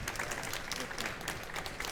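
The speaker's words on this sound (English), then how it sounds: "A round of applause for Julene" A small audience applauds a presenter with brisk, dense clapping heard up close, steady throughout the short burst with no talking.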